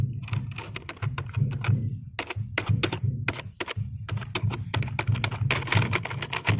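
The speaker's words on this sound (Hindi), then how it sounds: "यहाँ पे मैं कीबोर्ड और माउस से टाइपिंग करके दिखाता हूँ।" Typing on a USB keyboard connected to a mobile phone, loud close clacks in irregular bursts and runs of keystrokes with short pauses, alongside a low steady hum.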